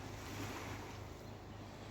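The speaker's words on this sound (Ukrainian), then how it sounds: "Боже, яке воно сьогодні гладесеньке, гладесеньке це море." Calm Black Sea waves at Odesa, a soft steady wash of gentle water and light wind, faint and continuous with no voices.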